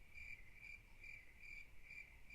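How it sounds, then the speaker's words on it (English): Crickets chirp in faint, evenly spaced bursts of high trilling against a quiet background, with no voices. "Am I hearing cricket?"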